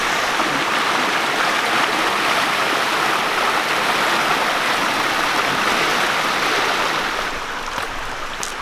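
Steady broadband rush of a waterfall and stream in the Gorges d'Héric, loud and continuous with no voices, easing slightly toward the end.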